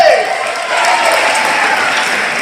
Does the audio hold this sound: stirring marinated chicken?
no